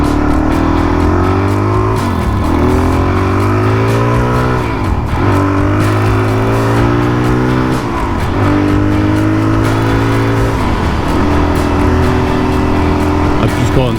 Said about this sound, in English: put the standard exhaust tips back in the bike so it's not so loud